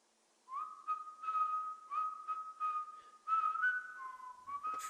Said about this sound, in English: Here's a human whistling.